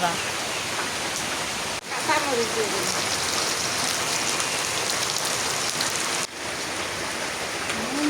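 Steady rain pours down on a surface in a dense, continuous hiss, with a voice speaking briefly underneath.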